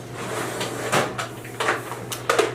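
A few soft clicks and knocks of a drawer holding cream blushes, bronzers and highlighters being opened, spaced irregularly over a faint quiet room background.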